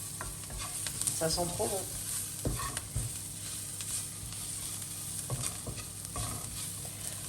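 Smoked paprika and other spices sizzling with onions in a pan as they are stirred, a continuous frying hiss with scraping stir strokes, while a person briefly speaks.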